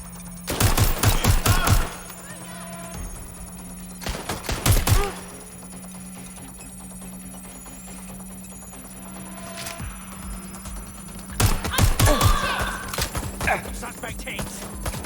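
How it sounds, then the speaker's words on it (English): Gunfire crackles in Watch Dogs: Legion, loud rapid bursts of shots in three clusters with quieter stretches between them, set against a low steady hum, with no speech heard. "Shots fired!"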